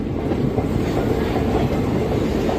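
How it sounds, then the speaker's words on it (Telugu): The Garib Rath superfast express rolls along the rails after leaving Duvvada station, a steady close rumble of wheels with a soft clickety-clack heard from inside the coach. "9:10 ఆన్ టైంకి మన ట్రైన్ దువ్వాడ స్టేషన్ నుంచి అయితే బయలుదేరిపోయింది"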